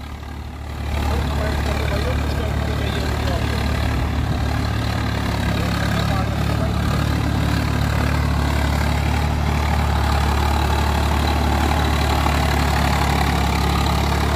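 A Swaraj 855 tractor runs with a harrow working a field, its engine starting up then holding a loud, steady, close low-frequency drone; someone talks faintly beneath the engine.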